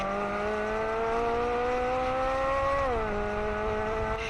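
A supercharged 6.2-liter V8 in a Dodge Ram produces a smooth, sustained engine drone that climbs steadily, dips sharply for a moment, then settles and continues, loud and close with no talking.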